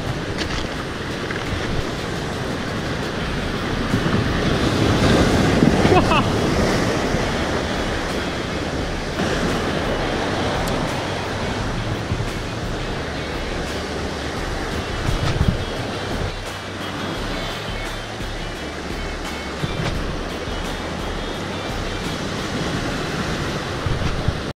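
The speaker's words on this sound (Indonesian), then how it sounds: "Ombaknya gede sekali." Heavy ocean waves break and roar on a rocky fishing spot, a continuous loud wash of surf with wind buffeting the microphone and no talk.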